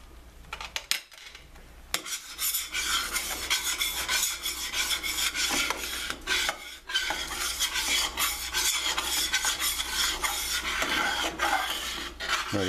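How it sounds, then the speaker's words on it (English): A utensil scrapes and stirs repeatedly across the bottom of a pan of pink cream sauce for sea scallops, giving rhythmic close rasping strokes over a faint simmer, with no voices. "Scrape that well. You don't want anything stuck on the bottom."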